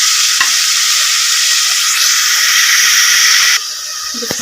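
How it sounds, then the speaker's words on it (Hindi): Spice paste for aloo gajar frying hard in a pan, a loud, dense, steady sizzling hiss up close, with a brief knock early on and the sizzle dropping slightly near the end. "एक से 2 मिनट तक हम इसको अच्छे से फ्राई करेंगे।"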